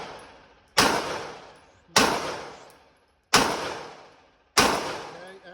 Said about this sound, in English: What I'm going to do is have you continue to shoot until I say he's down.